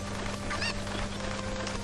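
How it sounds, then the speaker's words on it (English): A cucco chicken in Zelda Ocarina of Time gives a short, quiet clucking squawk over a low steady game background hum, a single brief call near the middle. "Thank you for finding my cuckoos."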